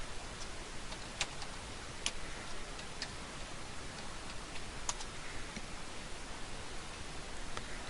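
Sparse, faint keystrokes tap on a computer keyboard, a handful of light isolated clicks sitting beneath a steady hiss of background noise.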